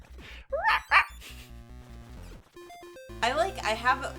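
Chiptune sound effects from a crocodile in a retro video game that sounds like a dog: short bursts of synthetic barking yips with electronic tones in between, loud and close.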